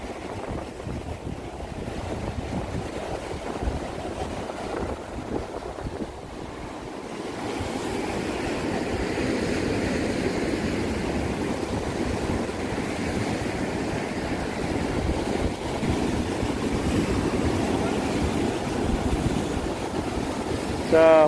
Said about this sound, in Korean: 파도가 갯바위로 높이 속도 치고 있습니다.